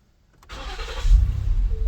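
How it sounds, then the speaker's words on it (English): A 2019 Ford Explorer that intermittently fails to start once warm, cranking without catching: a sharp click, then a rising mechanical whirr and a low, rumbling churn that continues to the end, close and loud. "Let's try to start it."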